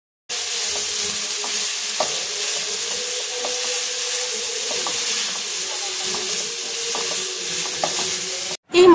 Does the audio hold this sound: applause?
no